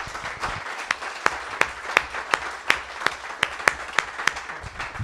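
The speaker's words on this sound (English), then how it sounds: "So big applause." An audience at a tech talk on Google Cloud Functions and Firebase claps for a presenter, a thin spread of a few people clapping with sharp, distinct, evenly spaced claps standing out, moderately loud in a quiet room.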